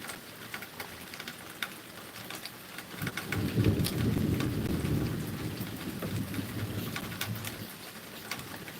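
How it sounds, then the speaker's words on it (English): Steady rain falling outdoors with a low rumble of thunder swelling in the middle and fading, constant hiss of drops on surfaces throughout, no voices. "It's raining outside."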